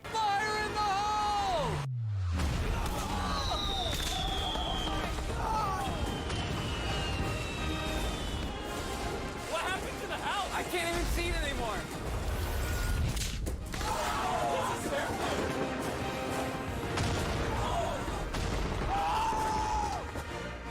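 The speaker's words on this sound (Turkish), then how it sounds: "Videonun devamında evde patlatılan havai fişeklerle ilgili bir gösteri hazırlanmış." Fireworks set off inside a house make a loud, dense stretch of crackling and bursts, with rising whistles and some shouting mixed in, nearly continuous with a brief gap early on.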